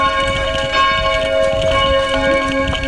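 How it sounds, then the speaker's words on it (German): Church bells ring loudly and continuously on a Vienna street, with overlapping tolls humming steadily over faint city background noise and no voices. "Passend zu den Kirchenglocken."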